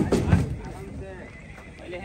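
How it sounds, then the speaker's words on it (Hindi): A horse neighs near the start at a busy horse fair where truckloads of horses and mares arrive, followed by background bustle and people talking. "ये देख सकते हो आप, ट्रक भर भर के घोड़ा घोड़ी आ रहे हैं"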